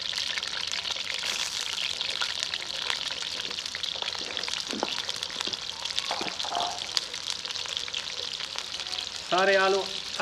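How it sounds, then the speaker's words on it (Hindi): Peeled potatoes, a little over a kilo, fry in hot oil with a steady, soft crackling sizzle throughout, joined by a few faint clinks and a short burst of bubbling near the end. "सारे आलू ऑयल में डाल के फ्राई कर लेंगे।"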